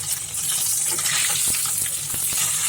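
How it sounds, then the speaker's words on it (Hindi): Marinated rohu fish fries in a pan of hot oil, giving a dense, continuous sizzle with a few soft clinks, steady and close throughout. "अब हमारा फिश फुल्ली फ्राई हो गया है।"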